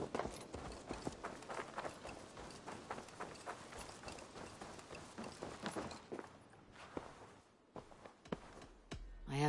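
Steady clip-clopping of horse hooves with a brisk walking rhythm, fairly close, set against a busy background of ambient noise, in Assassin's Creed: Valhalla.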